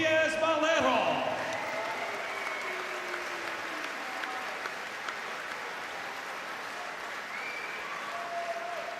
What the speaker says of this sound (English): how about a round of applause for Juan Diaz Melero?